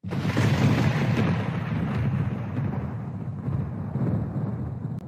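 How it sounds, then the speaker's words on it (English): A deep thunder rumble rolls on for several seconds, loud and low, slowly fading without any talking. "This is the sound of thunder."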